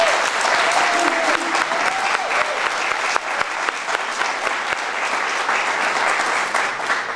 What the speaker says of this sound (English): Can we give Patty Lewis a round of applause?